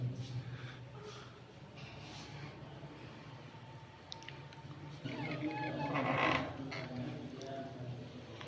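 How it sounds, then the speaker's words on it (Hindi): An old door at the Mela Baba shrine near Ziarat Kaka Sahib creaks faintly. A longer, louder groaning creak swells toward the end over quiet background noise. "ये दरवाज़ा है।"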